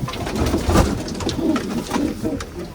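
Racing pigeons coo in low, throaty, repeated rolling calls, close by and fairly loud against a busy background hiss of other birds.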